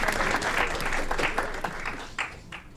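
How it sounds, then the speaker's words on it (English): Round of applause at a city council meeting, a dense wash of clapping from the gathered room that stays loud and then gradually thins out, with scattered claps near the end. "round of applause"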